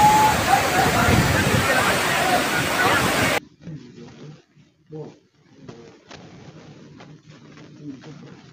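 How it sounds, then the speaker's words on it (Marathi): Dense spray and rushing water at Zenith waterfall in Khopoli, a loud steady hiss that cuts off abruptly, followed by quieter scattered sounds and a voice speaking. "पाऊस पडत नाही आहे तर हे त्या वॉटरफॉलवरचे चिंचोडे आहेत"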